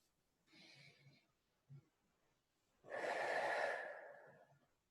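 Slow breathing during a guided exercise: a soft inhale, a brief pause with a small catch, then a longer, louder exhale that gradually fades out, close and quiet.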